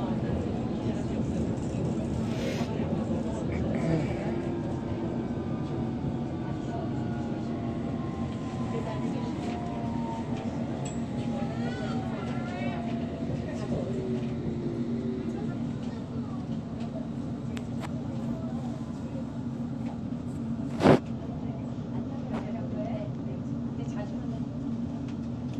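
A London Underground Hammersmith & City line train running toward Barking, a steady rumbling drone with rising and falling whines from the motors and a sharp clank near the end.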